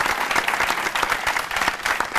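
Studio audience applauding on a Catalan TV word-game show set, a dense, steady wash of many hands clapping close and loud throughout, with no speech over it.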